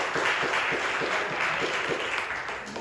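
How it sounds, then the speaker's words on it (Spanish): A church congregation claps in steady rhythmic unison, a dense, continuous wash of applause that holds throughout and eases slightly at the end. "Dale palmas al rey David"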